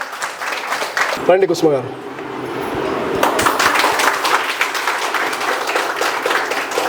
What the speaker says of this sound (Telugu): ఒక్కసారి గట్టిగా కుసుమ గారికి క్లాప్